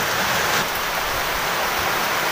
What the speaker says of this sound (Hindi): एक बारी फिर बारिश आते हुए गाइस